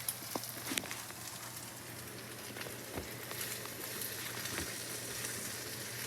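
Potatoes sizzle in a hot pan, a steady close crackling hiss with occasional louder pops and a low hum underneath, no talking.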